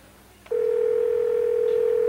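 During an outgoing phone call, a steady ringback tone starts abruptly after a moment of quiet and then holds at one even pitch, clear and loud, until the end.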